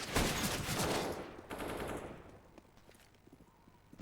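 A loud burst of rapid automatic gunfire erupts in a Counter-Strike esports match, then fades into scattered shots and footsteps, with a sharp report at the very end.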